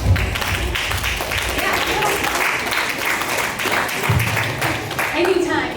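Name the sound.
audience clapping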